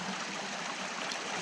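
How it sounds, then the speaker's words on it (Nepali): Spring water from a source in Dang Deukhuri flows steadily and forcefully along a channel, a close, continuous rushing gurgle with no speech. "यसरी बगेको छ मुलको पानी"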